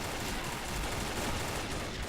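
Rapid gunfire from the Combat Arms video game, a dense, continuous burst of shots at moderate level with no talking.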